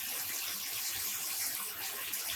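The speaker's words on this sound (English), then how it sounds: "So I'm just filling the tub once more" Tap water gushes steadily into a tub being filled for rinsing freshly dyed non-superwash wool yarn, a soft continuous splashing rush with no pauses, moderately close and fairly quiet.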